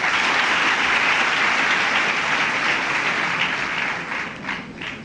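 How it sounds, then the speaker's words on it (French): Audience applause at a university graduation ceremony in Djibouti, a dense, loud, sustained wash of many hands clapping that thins slightly toward the end. "Je voudrais que vous les applaudissiez"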